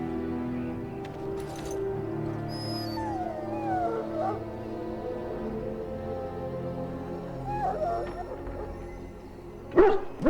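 A dog in the Dragon Age Origins fantasy game whimpers and yips amid low background game sounds and music, ending in a sharper, louder bark-like burst near the end.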